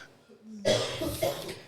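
A single harsh cough bursts out close to the mic in a podcast room, followed by rough throat-clearing noise, after a brief murmur of voice beforehand.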